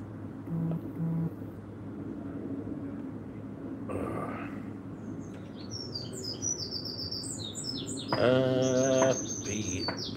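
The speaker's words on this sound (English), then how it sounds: "The birds are singing." Birds chirp and call outdoors beside Ye Olde Trip to Jerusalem pub in Nottingham, with scattered tweets early on and a brighter burst of song near the end, mixed with low background murmur and a pigeon-like coo.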